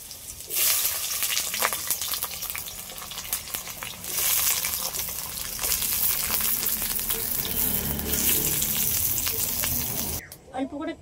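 Red bhola fish frying in hot oil hisses and crackles loudly at close range, with stirring and lifting sounds, until the sizzle cuts off abruptly near the end.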